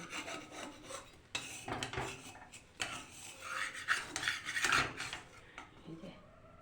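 A spatula scrapes and flips food in a dry, oil-free pan, giving close, irregular rasping and rubbing strokes with a few light metallic clicks, without any talk.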